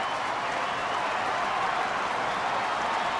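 A baseball crowd at a stadium game between Arizona and Atlanta rises with a sustained, even roar of cheering and clapping, heard from a distance as a broad, steady wash.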